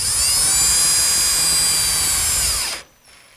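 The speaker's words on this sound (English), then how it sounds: "Line them up, and I secure everything with 1 5/8" screws." A power drill drives 1 5/8-inch screws into wooden pieces with a loud, sustained high whine close by, then cuts off abruptly near the end and leaves a faint hum.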